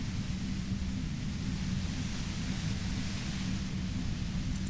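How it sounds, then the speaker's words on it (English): A steady, dense white noise effect from the Disco Elysium video game hisses and rumbles without a break, broad and unchanging, with no voices. "You hear through the white noise."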